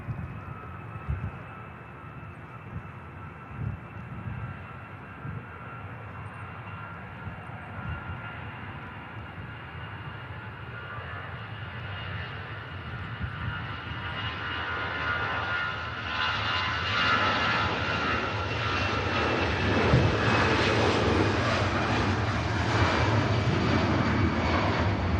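An aircraft taking off at Manchester Airport, a broad jet roar that swells steadily louder and brighter over about twenty-five seconds as the engines spool up and the plane rolls past.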